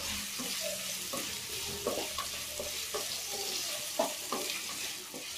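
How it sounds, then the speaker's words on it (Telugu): Potatoes frying in a pan, salted, for sabudana khichdi: a steady hiss of frying runs throughout, broken by light scrapes and taps of a spoon stirring, close and moderately quiet, with no talk. "ఆలుగడ్డలు వేగిపోయినాయి."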